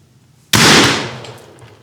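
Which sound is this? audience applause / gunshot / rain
gunshot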